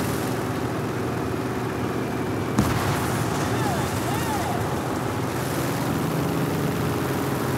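A bomb in a tank battle game slams into an aircraft carrier with one sudden deep thud that opens into a sustained roaring rumble over constant engine and water noise.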